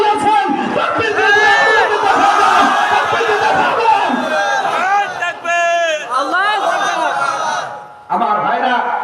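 A large crowd at a religious gathering roars out the takbir chant together, loud and close, with overlapping shouting voices rising and falling in waves and a brief pause near the end before the cry resumes.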